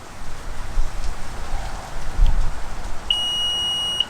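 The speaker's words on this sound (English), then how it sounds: "keep holding until you hear successive beeps" A single steady electronic beep from a Tesla Model 3 power liftgate sounds near the end, a clear high tone held for about a second over a hissing, rain-like background.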